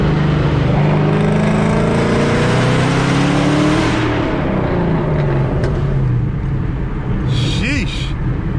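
A naturally aspirated Coyote Mustang accelerates hard at full throttle in third gear after crossing a bridge. Its loud engine roar climbs steadily in pitch, then recedes and fades.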